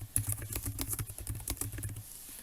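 Rapid clicking keystrokes on a computer keyboard while entering text, close and steady, a quick run of taps that thins out near the end.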